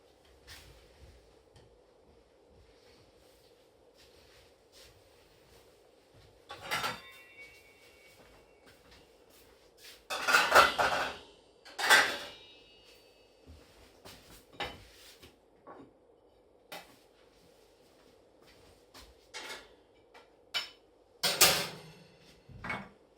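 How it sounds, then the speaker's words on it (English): Dirty dishes being washed up in a kitchen sink, with sparse clinks and clatters of crockery and cutlery rising in brief louder bursts over a quiet steady hum. "Dirty washing up."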